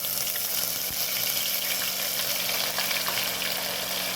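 Ground onion paste frying in hot oil for a dhaba-style Punjabi chana masala, giving a steady, dense sizzle and hiss that holds evenly throughout with no voices.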